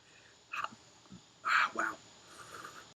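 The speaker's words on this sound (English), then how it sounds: "Hiccups." Hiccups from someone after eating a very hot Red Ghost Scorpion pepper, two or three short, close, abrupt throaty gulps separated by quiet pauses.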